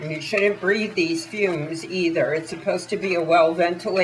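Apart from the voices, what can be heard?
No everyday noises stand out.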